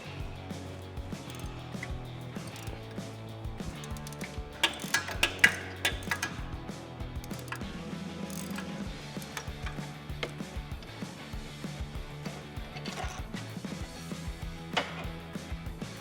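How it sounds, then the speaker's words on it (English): An 18mm socket on a ratchet works a sway bar link nut off a Jeep Wrangler JL, giving a steady run of faint, quick clicks and ticks with occasional metallic clunks, under a low background hum. "Use an 18mm socket to get that nut off"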